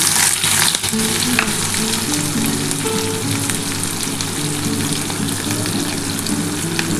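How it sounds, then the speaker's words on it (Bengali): Sliced onion and green chillies fry in hot fish oil with a dense, continuous near sizzle, the hiss and crackle steady throughout under occasional stirring. "এবার এই পেঁয়াজ আর এই যে কাঁচা লঙ্কাটা দিয়ে দিচ্ছি"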